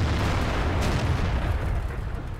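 HE shells fired from a tank in an online tank battle game produce a dense, rumbling boom that fills the clip and tails off slightly toward the end, loud and close.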